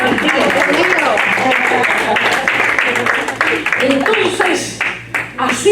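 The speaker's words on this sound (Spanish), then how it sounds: "Denle un aplauso aquí a los judíos y a los gentiles." A church congregation claps in a loud, steady burst, mixed with voices and a low hum, before the applause thins out and breaks into a few scattered claps.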